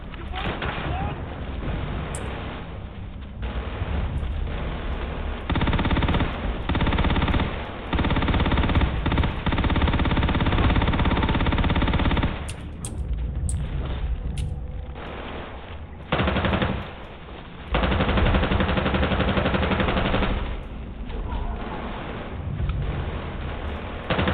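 Rapid automatic gunfire from a weapon in Starfield rattles on loudly and nearly continuously, with brief pauses between long bursts and some voice mixed in.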